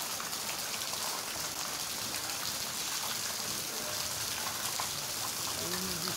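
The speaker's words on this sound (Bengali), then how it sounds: "সবার এলাকায় এখন বৃষ্টি হচ্ছে" Heavy rain falls in a dense, even hiss that holds steady from start to finish, close and loud with no other sound standing out.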